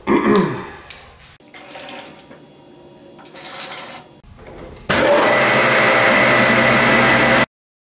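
A machine faces off a metal end cap: brief mechanical noises and short bursts give way to a loud, steady cutting whine for the last few seconds, then it stops abruptly.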